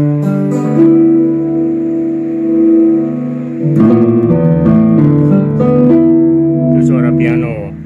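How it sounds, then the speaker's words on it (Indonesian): Piano-like tones from a Roland GR-20 guitar synthesizer play a short melodic phrase with some sustained chords, a bit reverberant, heard alone without talking. "Itu suara piano."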